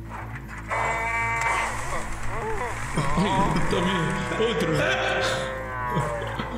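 Tractors in the animated film Cars low and moo like cows, with drawn-out wavering calls that rise and fall over a steady backdrop, partly under people talking.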